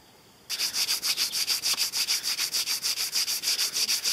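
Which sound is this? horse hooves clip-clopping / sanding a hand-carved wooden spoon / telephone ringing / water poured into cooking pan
sanding a hand-carved wooden spoon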